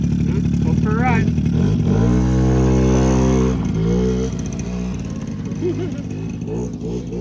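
A small four-wheeler ATV engine runs steadily as the rider sets off, its droning harmonic tone rising and falling with throttle changes, loud and close throughout.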